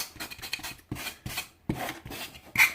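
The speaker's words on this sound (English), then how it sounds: "I'm going to finish sanding this" Rhythmic back-and-forth rasping strokes of sanding a painted wooden box, close and moderately loud, about eight strokes with short pauses between them.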